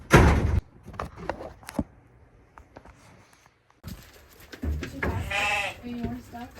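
A ewe that has just lost her lamb lets out a loud bleat in a farm setting, followed by scattered thumps and knocks, then a second drawn-out bleat with a person talking nearby.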